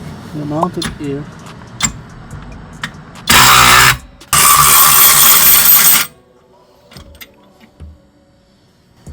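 ACROPOW cordless ratchet on a DeWalt battery spinning off a car axle bolt, heard as two loud close bursts of motor whir and rattle, the second lasting about two seconds, after brief talk and small tool clinks.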